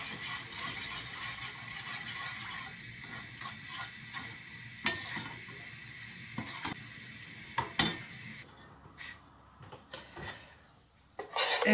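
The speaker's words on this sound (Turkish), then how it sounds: "Şöyle yağı bir yakayım," Oil with red pepper powder heating in a pan, a soft steady sizzle with occasional clicks and metallic clinks of a utensil against the pan.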